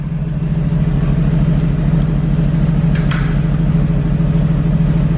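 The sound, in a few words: 2018 Aston Martin Vantage engine revving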